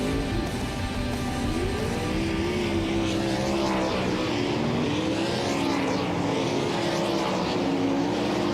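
World of Outlaws sprint cars roar around Ohsweken Speedway during a practice session, loud, continuous engine howl rising and falling as the cars lap the dirt oval.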